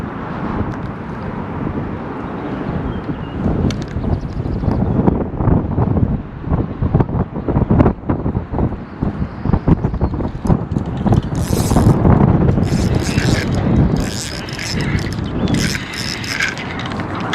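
Strong wind of about 30 mph buffets a microphone on a boat during bass fishing, a loud, constant rumbling roar with gusty surges and faint clatter throughout, with no talk.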